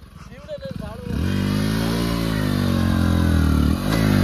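A motorcycle engine revs up and holds a loud, steady roar while the bike climbs a slope, dipping briefly before surging again, with a voice heard faintly near the start.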